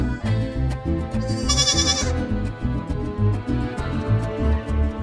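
Baby goats bleat repeatedly and close by, their wavering, overlapping cries forming a steady rhythm while the young animals are played with.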